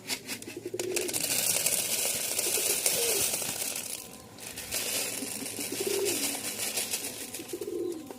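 Pigeons gathered for feeding coo in low, rolling bursts, with steady rustling and crinkling throughout and a brief drop in the noise partway through.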